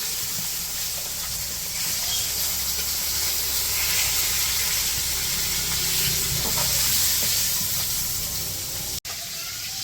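A pan of fish frying in a village kitchen hisses steadily with a dense, close crackle, holding an even level throughout before a sharp tap near the end.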